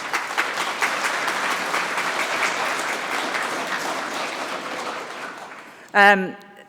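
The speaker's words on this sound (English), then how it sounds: "let's give them a quick round of applause" A conference audience at a PyCon UK welcome session applauds steadily and fairly loudly for about six seconds, the clapping fading toward the end before a voice begins speaking.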